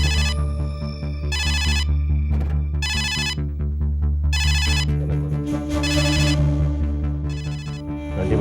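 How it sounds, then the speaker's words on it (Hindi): A telephone rings in short, repeating bursts of bright electronic trilling, steady and evenly spaced, over a continuous low droning musical bed with no voices. "घंटी बज रही है"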